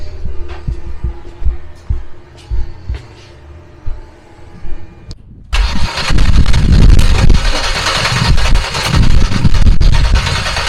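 A project coupe's engine cranks with uneven bursts for about five seconds, then catches into a loud, rough, sustained running roar on its first start attempt.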